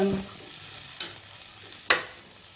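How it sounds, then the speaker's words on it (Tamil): Mint and coriander sizzle softly in a pan on residual heat while a spatula scrapes through them twice in sharp, quick strokes. "சும்மா இந்த சூட்டில் தான் வதக்குறேன்."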